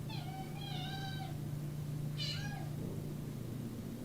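A pet cat meows indoors, two clear drawn-out meows about a second apart, moderately close over a steady low electrical hum, with no talking.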